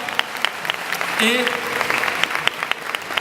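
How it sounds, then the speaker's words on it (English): An audience at a convention panel in Paris applauds loudly and steadily with dense clapping throughout, while a voice speaks briefly over it. "on les applaudit très très fort"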